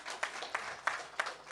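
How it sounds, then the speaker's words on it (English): A crowd at a second anniversary celebration and office opening gives light, scattered applause, faint and somewhat distant, with a few sharper claps punctuating a soft rustle of hands. "Let's give ourselves a round of applause"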